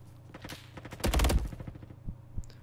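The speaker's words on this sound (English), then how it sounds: "Getting shot from two places." Gunfire in a Roblox shooter game, with scattered single shots followed by a loud, dense burst of rapid fire near the middle and a few sharper cracks toward the end.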